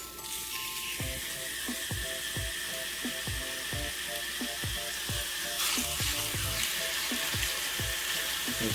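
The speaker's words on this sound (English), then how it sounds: "give it a good sear on your tuna" Ahi tuna steak, butterflied and seasoned with salt, pepper and paprika, searing in a hot pan with a steady close sizzle, broken by rhythmic low knocks or taps about every half second.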